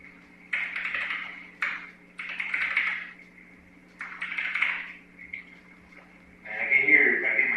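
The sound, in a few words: typing on a computer keyboard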